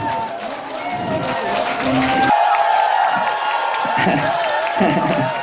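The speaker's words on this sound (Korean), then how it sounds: "자, 큰 박수로 부탁드릴게요." Audience at a year-end concert applauding and cheering, a dense continuous wash of claps with shouts rising over it, while a voice talks and music plays underneath.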